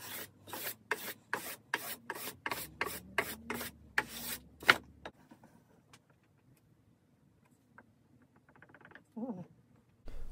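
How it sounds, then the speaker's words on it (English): Rhythmic rasping strokes of sanding a wooden guitar fretboard, about a dozen back-and-forth passes, then quiet with faint handling noises and a short squeak. "So sanding it is."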